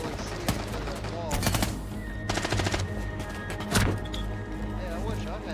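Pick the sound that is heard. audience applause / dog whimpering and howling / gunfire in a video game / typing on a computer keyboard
gunfire in a video game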